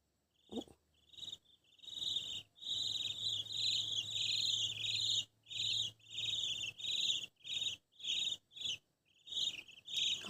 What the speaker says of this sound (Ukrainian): Так це не кури. Цвіркуни.